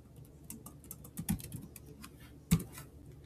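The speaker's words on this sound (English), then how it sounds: "The first thing we're going to do is type in our topic" Keys tapped on a computer keyboard while entering a search, a handful of irregular, soft clicks with one sharper stroke, close and alone in a quiet room.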